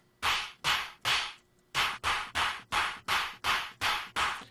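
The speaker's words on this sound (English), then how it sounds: "That just gives us a little bit of a bit crush kind of sound" Ten sharp, noisy bit-crushed synth bursts from Native Instruments Massive, using sample-and-hold with pitch all the way up, in a steady rhythm, each a crunchy, gritty hit with a quick decay, separated by brief gaps.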